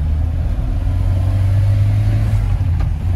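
A camper van engine labors in low gear up a steep switchback mountain road in the Austrian Alps, a steady loud drone with deep rumble throughout, slight rise in revs near the end, no talking.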